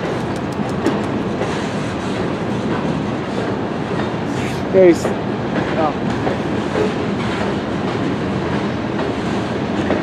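Railcars roll steadily past at close range in a rail yard, a continuous rumble with faint clanking and a brief squeal, while someone speaks a few words.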